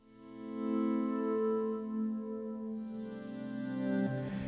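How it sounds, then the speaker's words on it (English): A sustained, shimmering guitar tone rings out with a long, airy reverb wash, notes blending smoothly before a brief scrape at the end. "that sound that gives you that ethereal reverb"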